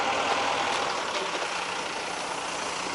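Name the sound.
trucks on the road in Dilijan, Armenia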